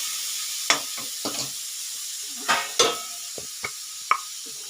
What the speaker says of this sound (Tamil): இப்போ தக்காளி நல்லா வதங்கி வரட்டாங்க